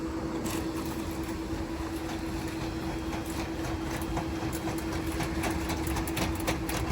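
A Cybertruck's powered tonneau cover running, heard as a continuous mechanical hum with a steady motor tone and faint ticking clicks throughout, with no voices.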